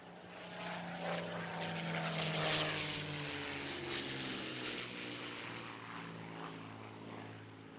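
Rolls-Royce Merlin engine of a Spitfire roars steadily nearby in flight, a loud continuous propeller drone with harmonic hum that swells midway and then eases slightly.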